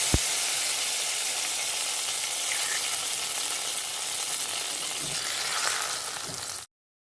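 Raw green mango curry ingredients sizzle steadily in a hot pan, a continuous bright fizz of frying that holds at an even, close level and is occasionally stirred, then stops abruptly.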